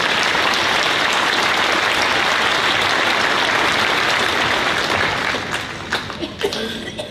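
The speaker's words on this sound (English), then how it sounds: "So give yourselves a round of applause because you deserve it." A fall commencement crowd of graduates breaks into dense, sustained applause, a loud, thick roar of clapping that holds steady for several seconds before thinning into scattered claps and a few voices at the end.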